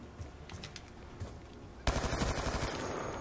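Rapid automatic fire from a customized M27 assault rifle in Black Ops 2, a dense burst of gunfire starting abruptly partway through and continuing loud to the end.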